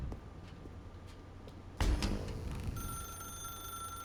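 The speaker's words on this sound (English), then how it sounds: "Now pick up the phone." A telephone rings in The Stanley Parable game, with a sharp electronic bell burst about halfway through followed by a sustained ringing tone over a quiet room hum.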